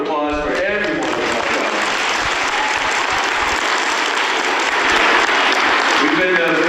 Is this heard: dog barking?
no